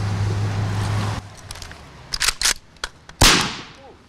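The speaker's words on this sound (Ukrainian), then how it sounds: "Свою готовність та стан зброї демонструють на місці. Настоящі стріляють." Several sharp gunshots from real firearms crack out at irregular intervals at a checkpoint, the last one loudest and closest, after a stretch of steady low hum and background noise.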